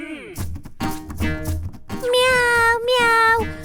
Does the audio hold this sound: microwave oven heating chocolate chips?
no